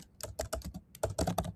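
Typing on a computer keyboard while writing Google Apps Script code: bursts of close, crisp key clicks in an uneven rhythm, clearly audible with no speech.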